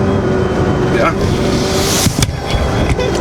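Bugatti Veyron Grand Sport Sang Bleu, an all-wheel-drive supercar, driving with a loud continuous engine drone heard from inside, with people talking over it.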